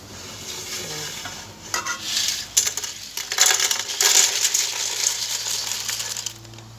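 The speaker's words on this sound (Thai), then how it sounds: "จะเอากล้วยกับน้ำเชื่อมเนี่ยมาคุก" Fried banana chips are stirred with syrup in a metal pot, a steady close scraping and clattering swish that swells and continues throughout, with no talking.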